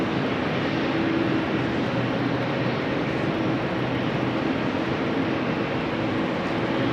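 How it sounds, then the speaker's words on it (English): A jet airliner roars steadily at a rainy Amsterdam Schiphol Airport, a broad, constant engine rumble with no clear rise or fall, loud and alone without any voices. "we have a 787-10 Dreamliner to Austin in Texas"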